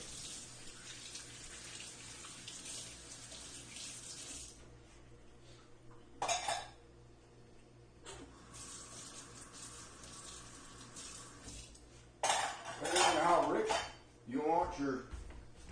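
Kitchen cleanup after making corn chowder: running tap water and clinking dishes, pots and pans, mostly quiet with bursts of louder clatter, and a person coughing or speaking briefly near the end.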